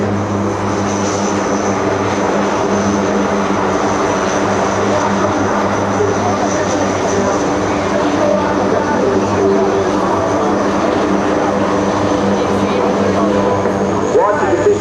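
A military propeller aircraft takes off at an Air National Guard open house airshow in Rhode Island, giving a loud, steady engine drone with strong low harmonics that holds without a break throughout.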